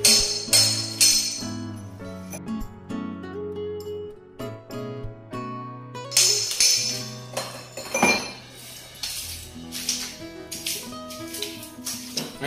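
A chisel is struck against concrete to cut a faucet hole for a drop-in kitchen sink, giving repeated sharp, ringing metallic clinks in irregular bursts, close and fairly loud.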